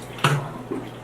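Laundry being rinsed by hand in a basin of water at a campsite, with a brief splash and slosh, then a softer second swish, close and alone.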